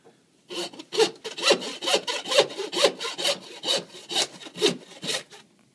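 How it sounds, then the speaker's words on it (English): A hand saw cuts through a beef rib bone at the 13th rib, a dozen or so rhythmic rasping strokes, close and clear with no talk. "Now I'll cut it with the saw."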